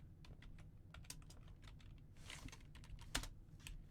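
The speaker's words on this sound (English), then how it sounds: "It's cool, I'm typing." Rapid, uneven keystrokes on a computer keyboard, a steady run of clicks with one sharper tap near the end, heard alone against a quiet room.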